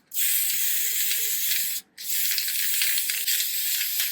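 Spray paint hissing onto the plastic body of a Scalextric Start endurance slot car, two sustained bursts of close, bright spray separated by a short pause.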